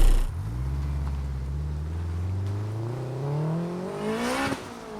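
A 420bhp turbocharged Honda Civic Type R EP3 engine runs loud and close, its low steady drone rising gradually in pitch with a brief sharp blip near the end.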